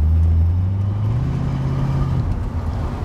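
A 1971 Ford Mustang Mach 1 engine drones loudly and climbs in pitch under hard kickdown acceleration, then the tone drops away as the revs fall back.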